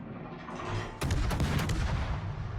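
Cruiser Atlanta firing shells in World of Warships: a quick volley of loud booming gunshots breaks in suddenly after a low rumbling lead-in, followed by a sustained roaring echo.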